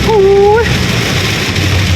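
Heavy rain pours during a storm in Bangkok, a loud, steady, dense hiss that never lets up. A brief whistling tone sounds near the start.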